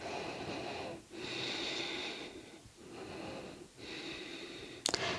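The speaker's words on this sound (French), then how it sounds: "Engagez la respiration Ujjayi." Ujjayi yoga breathing during a dynamic shoulder, arm and back session: slow, hushed, ocean-like breaths through a narrowed throat, about four long inhales and exhales in a steady rhythm, close and soft, ending with a brief click.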